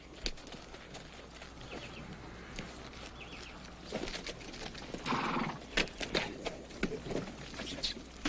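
Horses moving about outdoors in Texas, with hooves clopping, snorts and a faint whinny, plus occasional birds in the background.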